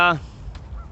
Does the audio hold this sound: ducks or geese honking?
yes